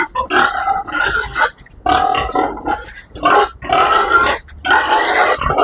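A pig, a pregnant sow, grunting loudly and close, in a series of rough, rhythmic snorts with short pauses between bursts.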